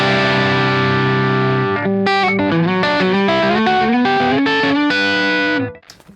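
Electric guitar through an amp with boosted mids and natural breakup, a held chord and then a run of gritty, driven notes with effects and reverb, loud and close, ending abruptly.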